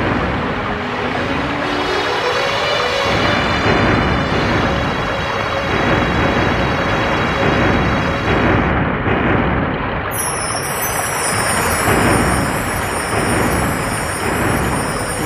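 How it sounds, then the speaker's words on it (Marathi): Thunder-and-lightning sound effect during a storm episode in a Bhagwat Katha recital: a loud, continuous roaring rumble with crackling bursts that swell and fade over a wide, noisy wash, with no voice heard. "विजा कडकड कडकड कडत करतात. विजा विजा ढग सुद्धा गर्जना करतात."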